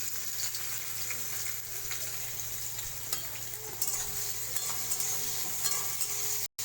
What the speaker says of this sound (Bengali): পেঁয়াজটাকে আমি ভেজে নেব। এই যে তেলের মধ্যে দিয়ে দিলাম।